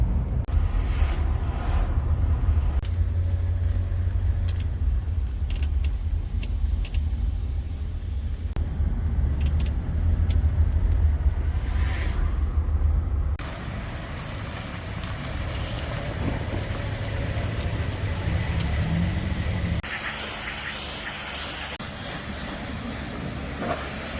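A 1977 Mercury Grand Marquis with a 7.5-litre V8 drives along, a continuous loud low rumble with road and wind noise that shifts in tone as it moves.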